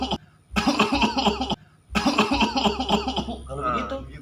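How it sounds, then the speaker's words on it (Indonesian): A man coughs repeatedly in a comic skit demonstrating the proper way to cough, with bursts of harsh coughing separated by brief pauses and voices mixed in. "Yang batuk yang benar tuh begini om."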